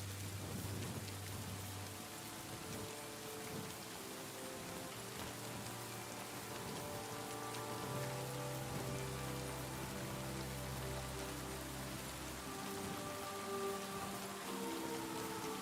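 Steady rain pours over a medieval village scene in Kingdom Come: Deliverance 2, a dense even patter across the whole stretch with low rumbling tones and a background music bed underneath, no voices.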